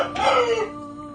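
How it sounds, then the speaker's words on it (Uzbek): A rooster gives one short, loud crow close by, rising then trailing off within a second into quiet. "Xo'roz, haqiqiy xo'roz ekan."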